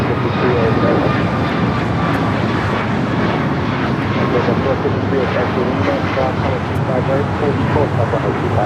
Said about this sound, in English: Here on the south side, we have an Aeromexico taking off.